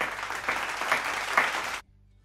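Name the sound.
applause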